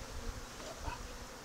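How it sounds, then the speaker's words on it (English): Dense, steady buzzing of many honey bees in a small hive, close and continuous, with no voices. "not too many bees in here, but small little hive"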